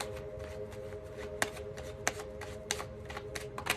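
Tarot cards are shuffled and drawn during a reading, heard as a quiet run of soft card riffles and flicks, with several sharper snaps spaced about a second apart over a steady low hum.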